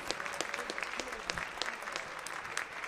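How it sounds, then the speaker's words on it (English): A jazz band concert audience claps in a steady burst of applause, many hands patting in a dense, even texture, fairly faint, with a few brief voices underneath. "can we give them one more big round of applause?"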